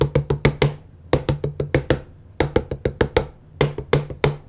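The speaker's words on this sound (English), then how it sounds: "When you play the pads, there is kind of this plasticky sound you can hear." Cheap OYAYO TD02 electronic drum pads give off hollow, plasticky clicks as sticks strike them, quick bursts of four or five hits separated by short pauses, close and dry with no talking.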